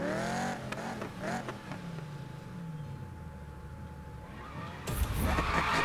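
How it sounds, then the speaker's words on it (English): A Camaro drag build performs a burnout in the Need for Speed racing game, with a revving engine and squealing, skidding tires rising and falling, then a loud surge of engine noise near the end. "I can get another perfect burnout"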